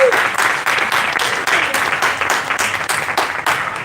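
A small group claps steadily at a regional officers' orientation, a continuous patter of hands close by with slight swells, and a voice briefly heard at the start.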